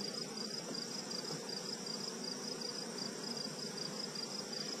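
Honeybees crowd over a brood and honey frame lifted from a hive, giving a faint, steady, continuous hum close by, with a thin high-pitched tone over it and no voices.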